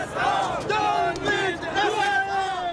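Crowd at a small, spontaneous anti-US street demonstration in Tehran, many voices chanting and shouting together in loud, rising and falling waves that fill the whole stretch without pause.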